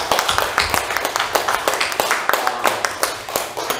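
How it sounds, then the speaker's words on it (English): A church congregation claps during a worship service, a moderately sized group giving fairly rhythmic, distinct hand claps in a steady run, with some voices in the room. "Let us give them a warm round of applause."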